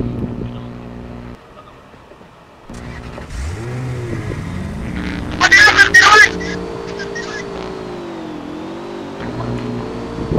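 A jeep engine in the video game Rules of Survival revs and rises in pitch as it pulls away, joined by a brief burst of louder noise midway, then a steady drone continues.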